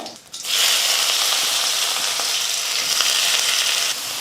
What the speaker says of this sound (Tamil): வெங்காயம் வந்து நல்லா வதங்கி வரணும்